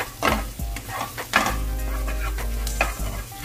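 Egg and shrimp are stirred together in a hot frying pan for crab fat fried rice, with loud, close scraping strokes over a constant sizzle.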